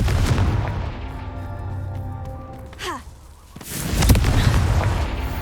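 A Confringo fire spell in Hogwarts Legacy lets out a short whooshing burst near the middle, followed by a louder booming blast over low rumbling background noise.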